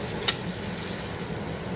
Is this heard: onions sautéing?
yes